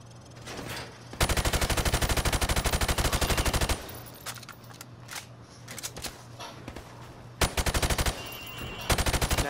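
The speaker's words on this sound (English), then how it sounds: "Now, shoot at the targets while firing from the hip." A rifle fired from the hip at targets in Call of Duty: Modern Warfare, loud sustained bursts of rapid automatic gunfire in several strings, separated by brief pauses with shell and mechanical clatter.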